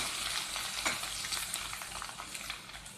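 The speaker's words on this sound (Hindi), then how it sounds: "इसको अच्छी तरीके से गोल्डन सा फ्राई कर लेते हैं, ब्राउन।" Sliced onion frying golden brown with ginger and garlic in a hot pan for a spiced mutton dish, a steady close sizzle with crackling bursts and occasional stirring.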